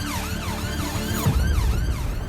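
An ambulance siren wails in a rising and falling cycle, loud and near, with a low engine rumble underneath.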